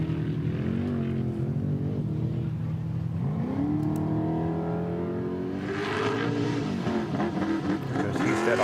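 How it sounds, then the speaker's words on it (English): Trophy trucks race through a corner at the San Felipe desert race, their engines roaring loud and close, with pitch climbing as one accelerates out of the turn and another truck following. "These are the trophy trucks still."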